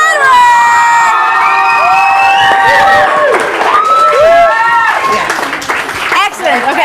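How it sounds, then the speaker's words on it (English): A live studio audience at a pop-duo appearance claps and cheers loudly, with shrill shouts and whoops from young fans filling the room throughout, voices rising and falling in a continuous excited din. "Big round of applause for"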